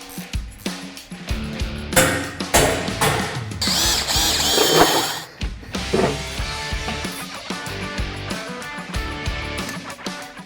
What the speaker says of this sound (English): I can transfer punch these top holes to the bottom plate, which will be drilled and then tapped for my 1/2-inch locking bolts